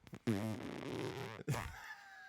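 A fart rendered as a long, buzzy, sputtering blast with a second shorter burst after a brief pause, close and fairly loud.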